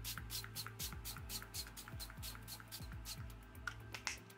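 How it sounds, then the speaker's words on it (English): A lightweight setting mist sprayed onto a face, heard as a quick series of short, crisp pump-spray bursts in a steady rhythm, close and fairly loud, with no talking. "I like to go in with like lightweight setting mist."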